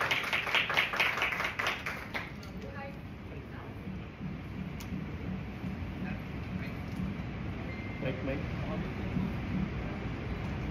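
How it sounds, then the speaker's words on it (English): Audience applause at the Miss World welcome press conference. A burst of clapping opens the scene and then fades into a lower murmur of room noise with scattered claps. "Let's please give her a round of applause."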